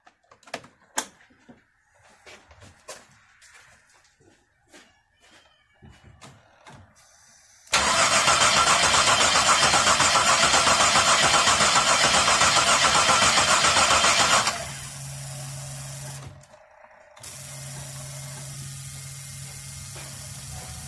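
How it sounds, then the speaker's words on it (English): A Chevy Monte Carlo engine cranks with a loud, steady starter whir for several seconds after some clicks and handling noises, then cuts off and settles into a low idle-like hum with a brief pause. "Let's hook up the fuel pump fuse, get it running"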